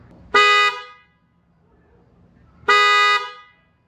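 Two loud, rich honks of an upgraded Mercedes Sprinter van horn, a couple of seconds apart, each lasting about half a second, ringing clearly against a quiet background.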